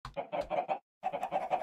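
Minecraft chickens trapped in a cauldron-based chicken cooker cluck in two quick bursts of rapid, close, fairly loud clucks separated by a short silence.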